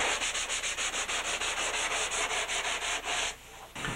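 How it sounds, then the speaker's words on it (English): A sanding block is worked back and forth along a surfboard rail, a close, steady, rhythmic rasp of quick strokes that keeps going for several seconds, with a brief pause near the end. "Now we're going to go over it real quick with a block. When you're sanding the rail, don't overdo it."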